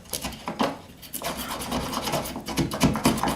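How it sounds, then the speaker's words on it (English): A Dremel Multimax oscillating multi-tool cuts a hole, probably through wood, producing a steady run of loud, close, irregular rasping strokes for the entire stretch. "the tool of choice was the Dremel Multimax. It's pretty handy for cutting holes"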